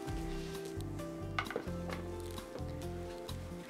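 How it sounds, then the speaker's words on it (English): Cornbread stuffing toasts in a pan on the stove, a faint steady sizzle with light scraping and clinks of a utensil against the pan, quiet and close. "We're just going to toast this up a little bit on the stove."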